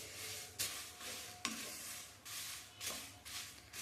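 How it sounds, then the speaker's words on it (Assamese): Spices sizzle softly in a hot kadai while being stirred for a jackfruit pickle. The frying comes in gentle, even waves with a few sharp scraping taps. "অকণমান ভাজি লৈছোঁ"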